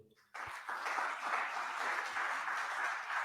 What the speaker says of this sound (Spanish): Por favor, un gran aplauso.